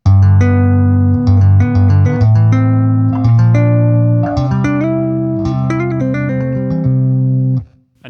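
A bass guitar through a Laney Digbeth Foundry combo amp with mids boosted plays a loud, sustained melodic line of held notes and shifting pitches, alone and up close, ending in a quick fade.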